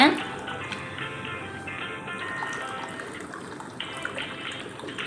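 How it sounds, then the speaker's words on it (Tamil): Water poured into a pan holding soaked flattened rice, a steady splashing gush that trails off, faint and close, with a voice speaking over it. "தேவையான அளவு தண்ணி ஊற்றிக்கலாங்க"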